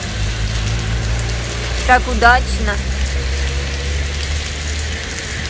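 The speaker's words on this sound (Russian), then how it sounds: "А у нас вот такой дождик пошел." Heavy rain pours down steadily at home in Zaporizhzhia, a dense constant hiss; someone speaks briefly around the middle.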